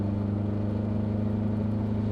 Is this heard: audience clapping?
no